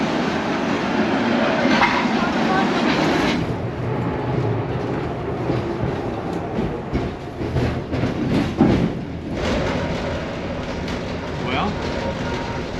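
A tram rolls through the streets of Lviv, Ukraine, giving a steady rumble of wheels on rail and car noise throughout, with a louder rattle and swell near the end and faint talk in the background.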